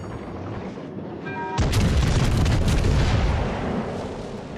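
A heavy naval gun salvo booms out in World of Warships: Legends, its loud blast following a brief rising tone and then rolling on into a long, thundering rumble that slowly fades.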